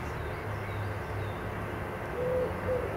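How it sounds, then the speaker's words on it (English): Pigeons cooing in a large cemetery in Northamptonshire, soft low hooting calls repeating over steady outdoor background hiss, moderately close with no voices. "Pigeons."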